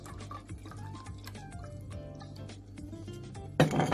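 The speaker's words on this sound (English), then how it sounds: "we are gonna put in it 1/2 glass of water" Half a glass of water is poured into a pot of milk on medium heat while making ricotta at home. Faint trickling and dripping run steadily, with light clinks and a louder splash near the end.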